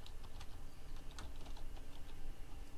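Rapid, irregular keystrokes on a computer keyboard as text is typed into a box, close and steady throughout with no talking.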